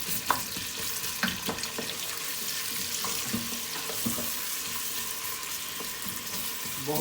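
Onions frying in hot oil for daal maash, a soft continuous sizzle broken by occasional knocks and scrapes of a spoon mixing them, close and fairly quiet, with no talking.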